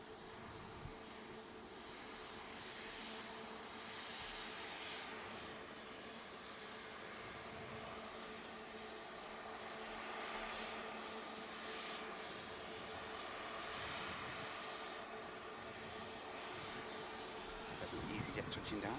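SunExpress airliner departing Manchester Airport for Dalaman, its jet engines giving a steady, broad roar that holds throughout at moderate distance, with a faint voice now and then.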